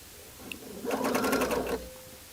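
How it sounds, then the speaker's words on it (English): A sewing machine stitches steadily around a garment cuff, a continuous close whirring run of about one second that starts and stops cleanly, with no talking. "So we're going to just sew around."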